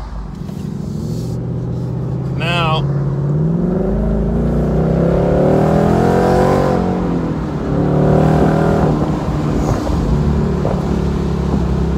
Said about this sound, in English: That exhaust is just nuts.